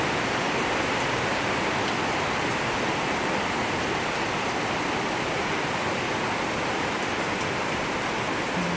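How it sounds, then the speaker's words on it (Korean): Heavy monsoon rain pours through the night in Phnom Penh, heard from a third-floor room as a dense, steady roar of rainfall on buildings that holds constant and loud for the whole stretch, with no voices. "비가 엄청나게 내립니다. 하늘에 구멍이 뚫린 것 같아요."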